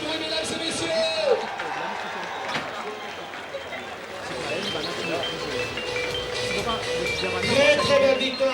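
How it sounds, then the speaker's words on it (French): An outdoor crowd claps at a horse race prize ceremony for the Air Mauritius Maiden Cup, a steady spread of applause and crowd murmur running throughout, with a French announcer talking over it. "Sous vos applaudissements, faites du bruit, mesdames et messieurs."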